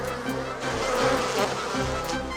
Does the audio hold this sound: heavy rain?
no